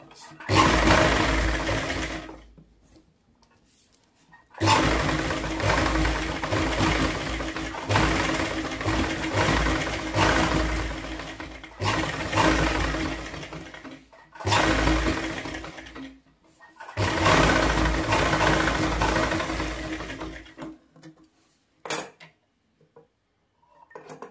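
A sewing machine stitches a designer blouse in several long running bursts, each whirring steadily for a few seconds. Short silent pauses separate the bursts.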